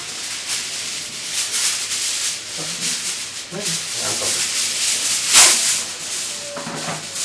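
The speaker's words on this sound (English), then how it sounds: "Just take this aluminium foil and seal the handi properly." Aluminium foil is pressed and smoothed over a chicken biryani handi to seal it, giving a soft, steady crinkling rub with a sharper crackle partway through.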